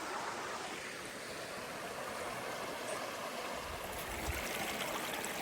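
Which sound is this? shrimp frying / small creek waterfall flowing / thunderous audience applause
small creek waterfall flowing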